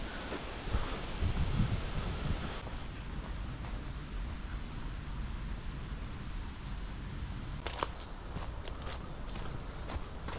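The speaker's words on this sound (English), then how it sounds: "Why is it so breezy today?" A breeze rushes through woods near Limekilns as a steady, broad wind roar with mic buffeting, while footsteps crunch nearby and brief rustles rise toward the end.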